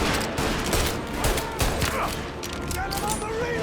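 Dense, continuous volleys of gunfire in the Mafia: Definitive Edition video game, a steady stream of overlapping shots across the whole stretch with voices shouting under the din.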